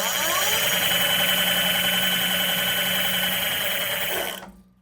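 The 2000-watt Billy Goat Grip N'Rip electric bike motor whines steadily at a high, even pitch for about four seconds, loud and close, before fading out quickly.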